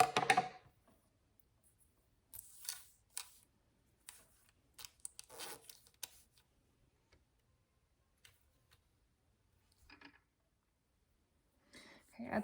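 Small scissors snip loose threads off a freshly sewn zippered pouch, scattered quiet clicks and cuts with long silent gaps, faint and close, plus a brief voice near the start.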